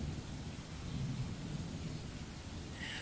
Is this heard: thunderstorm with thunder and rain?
yes